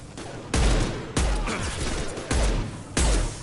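Four heavy sniper rifle shots in Mass Effect 2, each a loud, booming blast with a short decaying tail, evenly spaced at roughly one-second intervals.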